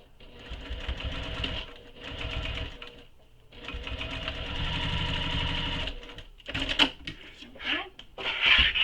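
A sewing machine back-stitches a handbag, running in several short whirring bursts separated by brief pauses, with a few clicks and handling knocks near the end and faint talk in the background.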